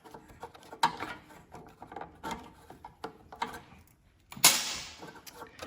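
Ratchet loosening long bolts on a Craftsman snow thrower, giving irregular bursts of clicking and metallic clanks at close range, with a louder scrape near the end.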